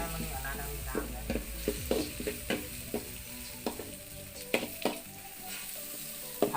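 Eggs stir-frying in hot oil in a pan give a steady sizzle. A utensil scrapes and clacks against the pan again and again in an uneven stirring rhythm, close by.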